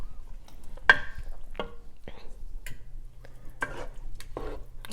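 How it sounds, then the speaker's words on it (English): Taco soup with hominy being stirred in a pot: a few separate close scrapes and clinks of a spoon at irregular intervals against a quiet background with a faint low hum. "Mix it all together."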